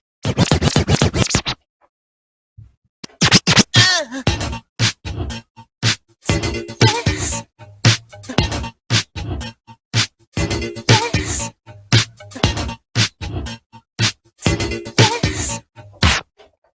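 A DJ beat-juggles a basic loop on turntables, cutting a short drum break back and forth in tight rhythmic bursts with scratch sounds, a brief gap near the start, then steady repeated chops throughout.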